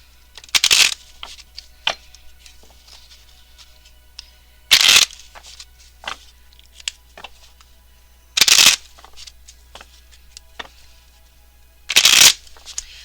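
Tarot and oracle cards being shuffled in four loud, close riffling bursts spaced a few seconds apart, with soft card taps and handling noises in between and no talking.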